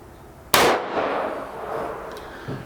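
One sharp rifle test shot fired through a Caldwell ballistic chronograph, a loud crack followed by a ringing decay and a faint later click, with no speech.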